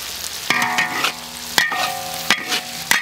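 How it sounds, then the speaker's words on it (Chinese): Chili peppers and pork belly are stir-fried in a loud, continuous sizzle, with several ringing metallic spatula strikes and scrapes recurring every second or so. "我要炒一下那个辣椒才好"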